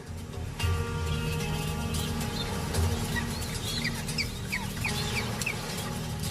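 A breeding penguin colony of some 200,000 birds keeps up a dense, continuous din of overlapping squawks and clucking calls, with some calls standing out more sharply over the steady crowd noise.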